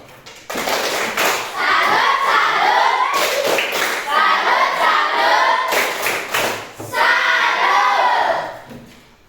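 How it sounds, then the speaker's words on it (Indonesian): Group performing a tepuk salut patterned clap cheer at an Indonesian teacher training session: three loud bursts of rhythmic clapping with chanted voices, separated by short pauses. "Tepuk salut untuk kita semua"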